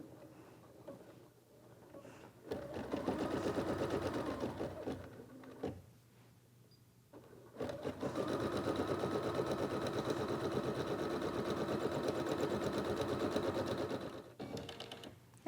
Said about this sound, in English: we're going to stitch our final stitch sequence, which will tack everything, all the layers of fabric together